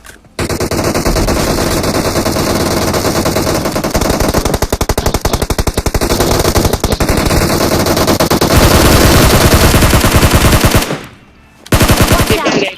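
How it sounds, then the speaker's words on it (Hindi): Loud, continuous machine-gun fire in a video game, rapid rattling bursts that run on for seconds, cut briefly near the end, then resume. "मुझे आगे से गोलियां चलने की आवाज आती है"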